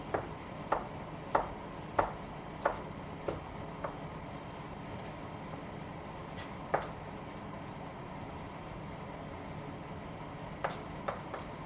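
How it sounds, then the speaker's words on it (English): A sharp kitchen knife finely dicing tomatoes on a cutting board, giving crisp, close chops in quick irregular bursts with short pauses and a long gap midway, alone with no talk. "Now you want to get this really finely diced."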